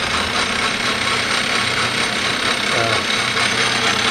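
A DC motor installed on an Atlas/Craftsman lathe runs at partial speed, producing a steady, loud, noisy mechanical whir with constant vibration throughout.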